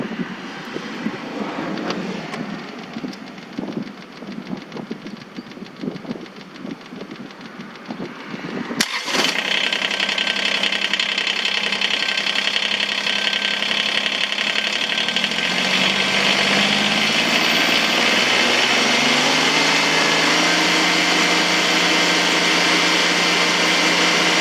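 A Kubota BX2380 compact tractor's engine cranks and catches after an oil and filter change, then settles into a loud, steady run; quieter mechanical shuffling comes before the start, with no talking.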